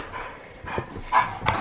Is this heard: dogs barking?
yes